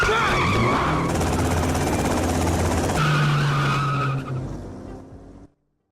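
In the video game GTA Vice City, a car speeds off with loud tires squealing and skidding as the engine revs hard. It stays close, then ends abruptly, with no speech.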